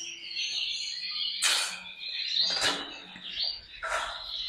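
A pet canary sings close by in a breeding room, trilling and chirping steadily with a few sharper bursts, no one talking.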